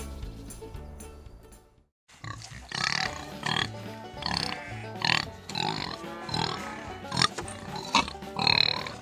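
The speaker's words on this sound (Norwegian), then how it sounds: "Grisen er nysgjerrig og veldig god på å lukte." Pigs on a farm grunt and snuffle repeatedly and close by, in short uneven bursts over several seconds, following a brief silent pause at the start.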